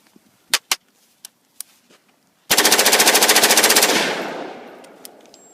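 An LWRC rifle fires a full magazine in one fast, loud automatic burst of evenly spaced shots lasting about a second and a half. A fading echo follows, and a few faint clicks and handling knocks come before it.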